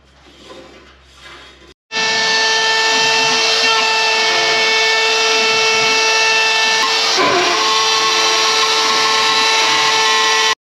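A power drill bores into hard steel with a loud, steady whine that runs for about nine seconds after a quieter stretch of shuffling. A brief scrape or grind surfaces midway through, and no one speaks.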